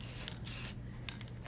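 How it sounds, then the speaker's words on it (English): A spray paint can hisses in short bursts against a sign surface, a close, steady airy rush with a couple of quick puffs near the end. "I'm now creating a new surface with a couple different types of spray paint on the surface."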